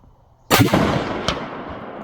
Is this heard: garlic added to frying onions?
no